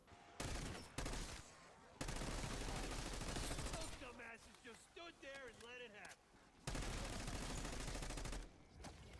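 XM4 rifle fire during Black Ops 6 zombies play, in loud sustained bursts with brief gaps, while warbling synthetic game effects swirl through the middle section.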